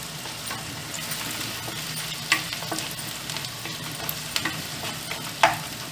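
Onion frying with ginger and garlic for Hyderabadi breakfast keema: a steady close sizzle with stirring scrapes and a few sharp spatula clacks against the pan.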